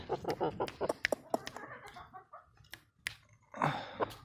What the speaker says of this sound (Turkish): Bu şekil bir horoz da.